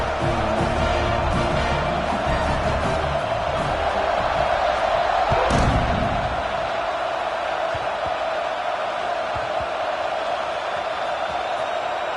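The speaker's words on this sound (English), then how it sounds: "They're set to kick it off, and this crowd now ready to get behind them." A stadium crowd roars before kickoff in NCAA Football 26, a sustained, loud wall of cheering with a sharp thump near the middle, and no clear talk over it.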